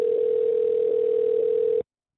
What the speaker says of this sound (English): I don't know what that ringing noise was here, sir